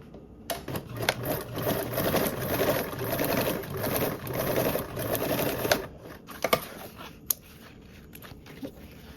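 A sewing machine runs a seam along the second side of a fabric piece. Its stitching comes in rapid, rattling bursts, close and fairly loud, with short pauses between runs.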